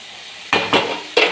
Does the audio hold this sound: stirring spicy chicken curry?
yes